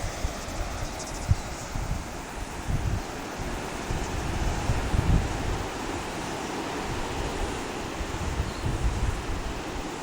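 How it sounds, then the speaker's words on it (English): Steady outdoor wind in New Plymouth, New Zealand, blowing across the microphone, a broad continuous rush with low buffeting gusts throughout, no voices. "And you can hear the wind again here"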